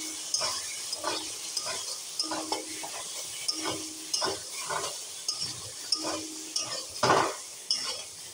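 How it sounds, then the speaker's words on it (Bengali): Potatoes stirred and fried in a cooked spice paste in a pan, with a soft sizzle under repeated scraping strokes of a spoon and a few sharper clinks against the pan's metal side. "এবার আমি আলুটাকে দিয়ে অল্প একটু কষিয়ে নেব।"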